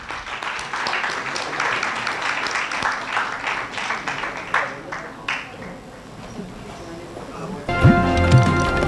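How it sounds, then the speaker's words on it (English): Audience applause at the BICON 2017 award ceremony, a dense steady clapping from a crowd that swells, thins briefly, then picks up again, with a musical jingle breaking in near the end. "Please give them a huge round of applause."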